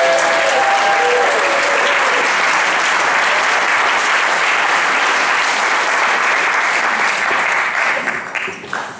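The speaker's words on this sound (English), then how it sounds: "Can we please give a huge clap of our welcome to Donald Clark?" Loud, sustained audience applause at a comedy show, dense clapping filling the room as a comedian is welcomed to the stage, holding steady for several seconds before thinning out at the end.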